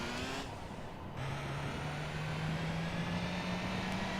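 A Toyota Celica rally car engine in the video game Gran Turismo 4 drones steadily, its pitch climbing slowly as it accelerates after a brief drop in tone, heard alone at moderate volume.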